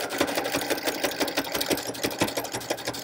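A sewing machine stitches through a paper tag in a close, loud, continuous chatter of rapid needle strokes with an uneven pulsing rhythm, alone without talk.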